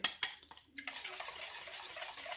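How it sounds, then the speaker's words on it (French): A homemade yogurt mixture is stirred together with a litre of milk, with a few sharp utensil clinks against the bowl at the start, followed by softer, continuous scraping and swirling that is close and fairly quiet. "نخلط كل شيء مع الليترو ديال الحليب."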